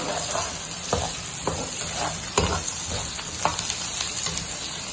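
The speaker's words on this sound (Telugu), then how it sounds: "ఇలా వేపుకుంటూ కొద్దిగా అల్లం వెల్లిగడ్డ వేసుకున్నాం." Ginger garlic paste frying in a pan, a steady sizzle broken by repeated scraping stir strokes that land at a roughly regular pace, close and alone.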